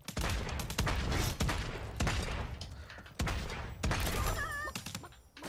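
Repeated gunfire in the Realm Royale video game: sharp, loud shots spaced roughly a second apart over several seconds, each with a booming tail, ending with a faint whistling warble.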